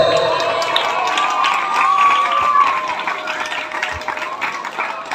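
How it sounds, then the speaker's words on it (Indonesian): Applause and cheering from an audience at a Maulid Nabi celebration stage event, a dense, steady wash of clapping with scattered shouts lasting several seconds, fairly loud and close. "Tepuk tangan untuk semuanya."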